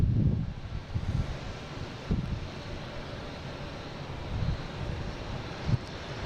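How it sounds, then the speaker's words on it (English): A British Airways airliner takes off from runway 15 right at Boston Logan, a low, steady jet engine roar, wind buffeting the microphone with a few gusty thumps. "this British Airways got clear for takeoff"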